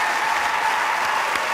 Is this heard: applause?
yes